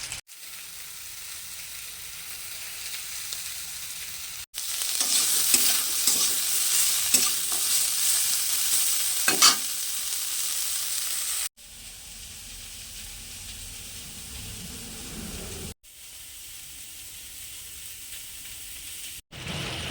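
Bitter gourd and potato pieces frying together in a pan give a steady, dense sizzle with occasional stirring scrapes, running continuously at a moderate close level with a few abrupt breaks.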